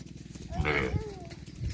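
A single drawn-out bovine call rises and falls among cattle being herded in a rural Thai rice field, heard over steady outdoor background noise with faint thumps.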